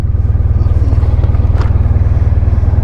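A vehicle engine idles steadily out in the Welsh countryside, with a loud, even low throb pulsing throughout and faint background sounds above it.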